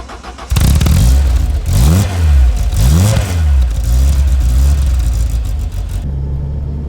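A Peugeot 205 GTI engine roars up suddenly and revs in repeated rising and falling sweeps while driving, loud and close, settling to a steadier hum at the end.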